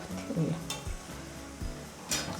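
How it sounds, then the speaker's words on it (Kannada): Shankarpali dough pieces for Diwali fry in hot oil with a continuous close sizzle. Occasional stirring scrapes and light utensil clinks come through, and no one speaks. "ಸೊ ಇವುಗಳು ಈಗ ಗೋಲ್ಡನ್ ಬ್ರೌನ್ ಬಣ್ಣಕ್ಕೆ ತಿರುಗೋವರೆಗೂ ಕರ್ಕೊಳ್ತೀರಮ್ಮ"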